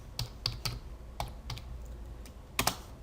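Computer keyboard typing up close, a quick irregular run of clicky keystrokes with short pauses between bursts, no voices.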